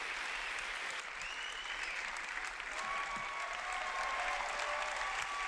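Steady audience applause at a film festival closing ceremony, sustained and even throughout, with faint crowd murmur underneath.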